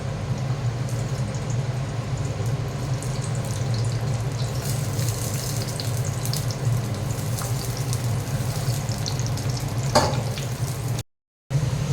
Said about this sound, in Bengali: তেলটা গরম হয়ে গেছে এবার আমি বেগুনগুলো ভেজে নেবো একটা একটা করে